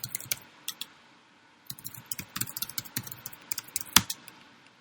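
Close, quiet typing on a computer keyboard comes in irregular bursts of light clicks, with a short pause early on and one sharper key clack near the end.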